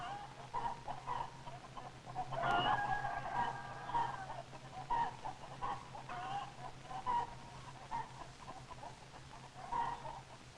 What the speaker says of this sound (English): The big rooster crows right in Tuffy's face.